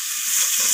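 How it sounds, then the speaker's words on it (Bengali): Spice paste stir-fried in a pan for a spicy vetki fish-bone and kohlrabi dish, a steady bright sizzle held close and loud for a brief moment with no voices. "সমস্ত কিছু মশলা এইভাবে আমি কষিয়ে নিচ্ছি"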